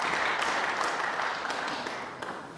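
Crowd applause at the Barbican Centre during a UK Snooker Championship match, a steady, moderately loud wash of clapping that slowly fades.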